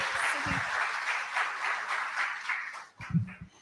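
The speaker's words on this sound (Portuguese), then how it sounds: "uma salva de palmas" Brief audience applause at a healthcare risk-management event, moderately faint and steady clapping lasting a few seconds, with a short voice at the start and another at the end.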